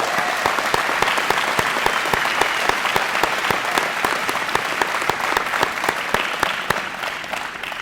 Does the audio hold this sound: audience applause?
yes